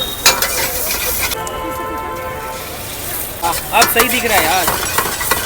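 Chicken fried rice with vegetables stir-fried at a roadside street stall, a continuous sizzle with metal spatula scrapes against the pan, close, under someone talking.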